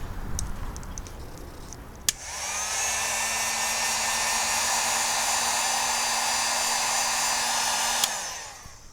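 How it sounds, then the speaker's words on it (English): A heat gun shrinks rubber tubing over a crimped wire joint on a police interceptor car project: a steady, loud blowing whine switches on abruptly, holds for about six seconds and cuts off sharply. "we'll use the heat gun to shrink the rubber around the crimp and make it watertight"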